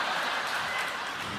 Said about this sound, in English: That clapping's messing my head up